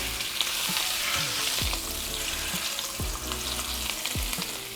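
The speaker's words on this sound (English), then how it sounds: "We're gonna sear the fat cap." Steak fat cap searing in a smoking-hot pan, a loud, continuous sizzle and crackle with occasional low thuds and scrapes, heard close without any talking.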